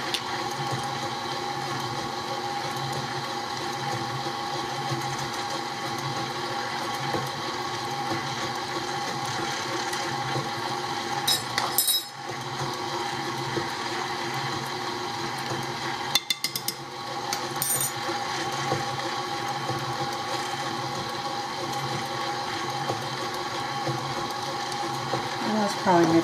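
An electric mixer beats plum cake batter flavored with lemon, giving a steady, mechanical whirring drone with a couple of brief clattering knocks partway through.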